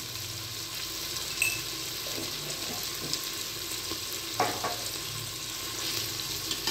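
Tomatoes with a spoonful of salt cook in a pan with a steady, close sizzle. A few soft stirring scrapes and clinks of a spoon come through, and no one talks.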